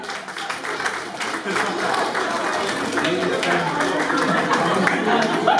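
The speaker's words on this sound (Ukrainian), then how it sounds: "Оплески цим людям." Wedding guests break into sustained applause, rising quickly and holding loud and steady, with scattered chatter mixed into the clapping.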